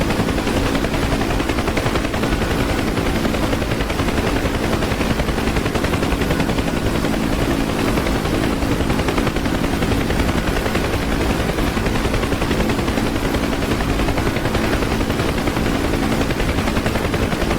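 Dense, continuous gunfire rattles around a Huey UH-1 helicopter in the DCS flight simulator, loud and unbroken over the rotor and engine roar.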